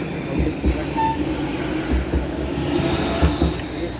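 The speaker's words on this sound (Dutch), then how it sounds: "een tram" Tram rolling past on street rails, a moderate rumble with intermittent wheel clunks and a brief squeal, heard fairly close in an outdoor street setting.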